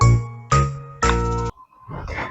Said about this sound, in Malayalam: ഫോൺ വിളിക്കുന്നത് ജമീൽ താത്താണല്ലോ.